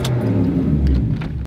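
A modified Lexus with aftermarket cold air intake sits in park with its engine idling too high, a steady, loud, close low rumble for a moment, with no speech over it.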